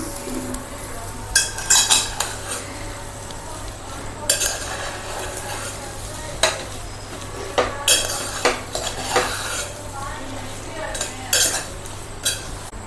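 A spatula stirs prawn and egg vermicelli biryani in a metal pan, giving repeated scraping and clinking strokes over a soft sizzle, close and moderately loud with no talking.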